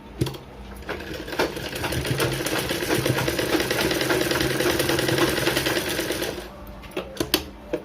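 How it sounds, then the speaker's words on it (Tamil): Sewing machine stitching a back-open blouse, a steady rapid mechanical whir with dense needle ticking that runs for about six seconds, then stops, leaving a few faint clicks. "ரெண்டு தையல் போட்டுக்கோங்க. அப்பதான் தையல் பிரியாம வரும்."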